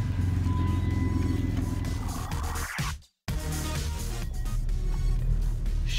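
A car being parked after dark, its engine giving a steady low rumble close by that cuts out abruptly for a moment near the middle before carrying on.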